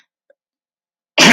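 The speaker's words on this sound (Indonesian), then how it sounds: "maaf batuk ya" A single short, close cough arrives abruptly after near silence.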